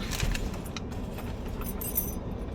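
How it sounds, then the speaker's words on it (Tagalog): Car keys jangle in a loose, continuous metallic rattle for a couple of seconds, close by over a noisy background of ambient rumble, with no talking. "Susi na sasakyan."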